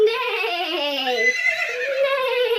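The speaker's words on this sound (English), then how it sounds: "Neigh! What does a horse say?" A horse neighs in one continuous whinny, a loud, close, wavering call whose pitch slides down and then rises again, heard alone with no talk.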